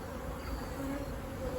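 Honey bees buzzing at a hive, a dense, steady drone of many wings at close range that swells slightly near the end, with no talking.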